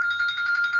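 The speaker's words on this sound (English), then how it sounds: "My phone is ringing." A mobile phone rings with a steady electronic tone during a phone call, the ringing continuous and moderately loud through the short stretch with no talk over it.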